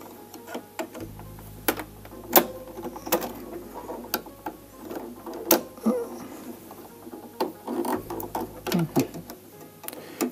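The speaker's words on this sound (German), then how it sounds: "Hierzu einfach die Nadelstange wieder ein Stück nach unten drehen" A Brother embroidery machine's needle bar is turned by hand during cleaning and oiling, giving close, irregular mechanical clicks and ticks with a low hum in parts and no voices.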